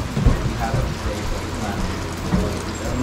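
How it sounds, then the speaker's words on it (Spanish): Heavy rain falls in Corcovado National Park near Bahía Drake, Costa Rica, as a steady, close wash of rain noise with a few heavier thumps and low rumbles in the background and no talking. "Te dejo con la lluvia."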